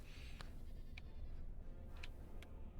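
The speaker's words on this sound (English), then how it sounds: "It's a goat." Goats bleat in a fantasy role-playing game at a ruined temple, a few short, separate bleats over a steady, dense game soundscape, with no talking.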